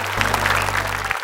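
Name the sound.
audience applause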